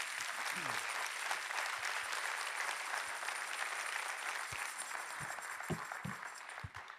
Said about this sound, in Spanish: Dele palmas al Señor esta mañana.